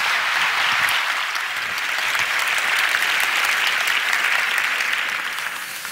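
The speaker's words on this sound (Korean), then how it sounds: "박수로 환영하면서 맞이하겠습니다." A large church congregation at a Korean Daniel Prayer meeting applauds to welcome a pastor to the pulpit, a loud, sustained roar of many hands clapping at once that holds steady for several seconds before easing slightly at the end.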